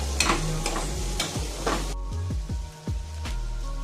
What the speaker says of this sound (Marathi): आलं लसूण टाकून घेऊया आणि छान असं मिक्स करून घेऊया